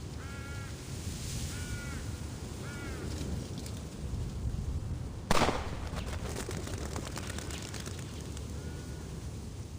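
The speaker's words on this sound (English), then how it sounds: "Was that, a gunshot?" A single sharp gunshot in the video game Reverse:1999 cracks out midway through an outdoor scene, while crows caw repeatedly nearby over a steady ambient background.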